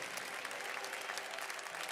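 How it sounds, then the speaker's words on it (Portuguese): Sustained applause from a church congregation fills the whole moment, many hands clapping at a constant, fairly loud level with no clear speech. "Pode aplaudir ao Senhor."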